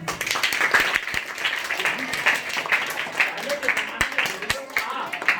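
Scattered clapping from a crowd at a public gathering in Surat, Gujarat, sounds loose and uneven. It runs under ongoing talk and crowd voices throughout.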